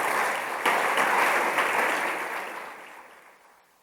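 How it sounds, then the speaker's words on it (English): Indoor audience at an official opening ceremony applauding a steel orchestra, a dense burst of clapping that holds steady, then thins and fades out over a few seconds. "Please give them a round of applause."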